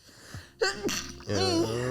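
A sharp sneeze bursts out after a quick breath in, followed by a brief vocal sound.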